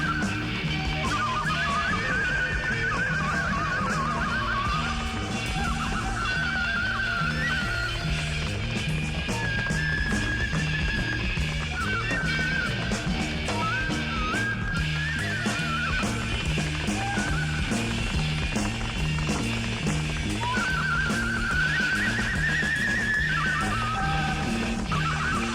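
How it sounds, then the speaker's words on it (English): Horse-like whinnies and a steady clip-clop rhythm sound inside a rock track, loud and continuous over dense music. "it sounds like horses"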